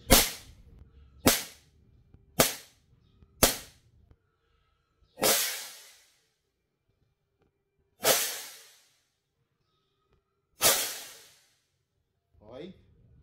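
An airsoft gun fitted with a T238 nano flame tracer unit fires a series of sharp, loud single shots: four quick reports in steady rhythm, then three more spaced wider apart, each ending in a hissing decay, with a faint click at the end.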